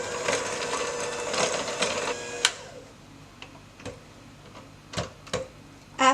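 An electric mixer beats cake batter for a pineapple upside-down cake, a buzzing whir that runs loud for about two seconds and then cuts off, followed by scattered light clicks and knocks.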